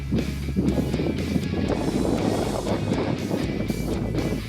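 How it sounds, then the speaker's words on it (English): Wind gusts roar against the microphone in steady low rumbles, constant and fairly loud, with no voices. "Pretty windy."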